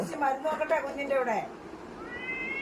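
An injured cat meows close by in long, wavering, plaintive cries, then gives a thinner, higher-pitched meow near the end.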